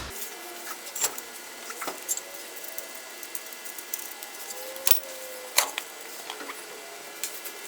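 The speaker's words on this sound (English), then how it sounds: "now we're just gonna pull this front bolt and the control arm will drop down" Front control arm bolt being worked free on a Chevy C10 during a front suspension job, with scattered metallic clicks, light taps and ratchet-like ticks over a quiet shop background.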